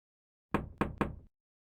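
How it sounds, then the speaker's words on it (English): Three quick, solid knocks on a door in Police Quest: Open Season, close and evenly spaced, with silence before and after. "there is no answer to your knocking"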